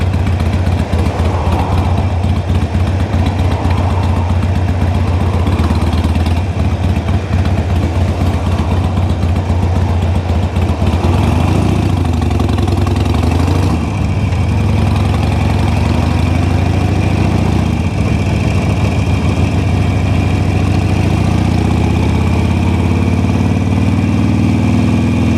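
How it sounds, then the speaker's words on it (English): A motorcycle engine idles close by, a steady low rumbling throb that runs unbroken from start to finish, with a faint airy hiss of surrounding traffic and wind. "I have a motorcycle"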